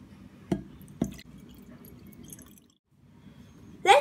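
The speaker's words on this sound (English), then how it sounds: "First, we're gonna add some water." Water going into a glass for a simple kids' science experiment: two sharp drip-like taps close together, a quiet stretch of low background noise, then a brief louder splashing burst at the very end, with no talking.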